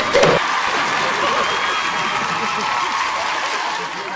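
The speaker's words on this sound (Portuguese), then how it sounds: "Cadê os aplausos, mesmo sendo ruim?" Crowd applause and cheering at a children's comedy show, a sustained, fairly loud blend of clapping and voices, with a brief sharp burst at the start.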